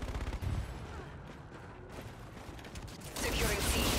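Gunfire in the Call of Duty: Infinite Warfare game, a dense run of rapid shots and mechanical clatter that swells louder near the end, mixed with battle noise and radio voices.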